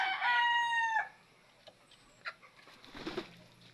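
A gamecock rooster bred for fighting lets out one loud, close crow lasting about a second. Quiet follows, with a few faint clucks and small shuffling sounds.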